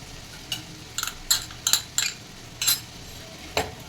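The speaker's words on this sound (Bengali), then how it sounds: "এবার মশলাটা আমি ভালো করে মিশিয়ে নেবো" A spoon stirring and mixing spices in a pan for a vegetarian egg curry, irregular metallic scrapes and clinks spaced apart over a soft low background, no talking.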